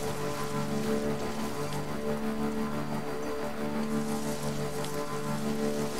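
Steady rain falls in the video game Death Stranding, an even hiss of drops with sustained low musical tones underneath and no voices.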